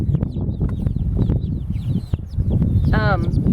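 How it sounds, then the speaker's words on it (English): Young Old English game bantam chicks cluck and peep close by, with high chirps over low clucking and scuffling, and a louder chick call near the end. "these are Old English game birds of some variety"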